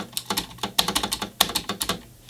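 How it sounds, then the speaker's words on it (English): Rapid, uneven clacking of keys on a cheap LESHP water-cooled mechanical LED gaming keyboard, loud and close, with sharp individual keystrokes in a busy irregular rhythm and no talking. "I would not suggest this keyboard because this is loud."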